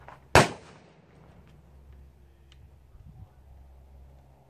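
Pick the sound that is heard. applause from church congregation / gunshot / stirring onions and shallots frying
gunshot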